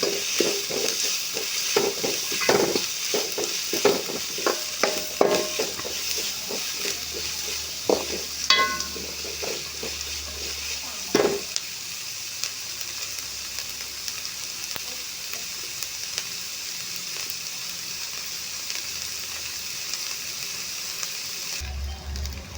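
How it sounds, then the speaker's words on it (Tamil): Onions and chilies sizzle in a pan while a utensil stirs and scrapes in bursts, then the frying hisses on steadily and quietly. "நல்லா கிண்டி விட்டுக்கலாம் நல்லா வதங்கட்டும்"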